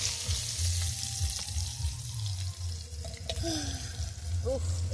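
Pangas fish pieces fry in oil with a steady, moderate sizzle and crackle, joined by a few watery splashes and faint background voices.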